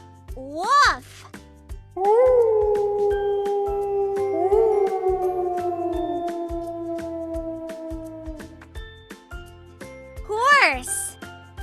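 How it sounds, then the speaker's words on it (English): A wolf gives two long, sustained howls, the second starting as the first continues, set against a rhythmic backing beat with short swooping sound effects at the start and end. "Wolf."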